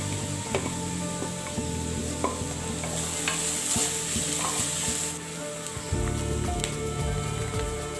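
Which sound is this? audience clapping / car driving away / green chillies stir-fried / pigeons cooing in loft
green chillies stir-fried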